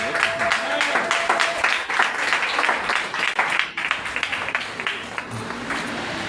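Church congregation applauding for Jesus during a worship service: sustained, loud clapping from a crowd throughout, with voices mixed in underneath.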